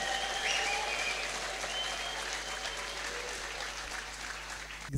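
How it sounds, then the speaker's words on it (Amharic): A church congregation applauds in a sustained, dense wash of clapping that holds steady for several seconds, heard from within the crowd. "ጭብጨባ ጮት ለጌታ"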